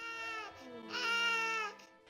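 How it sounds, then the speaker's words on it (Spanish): A malnourished child in an arid land cries in a thin, wavering wail with short breaks between sobs, close and fairly quiet. "En medio de esta tierra árida escuchamos el llanto"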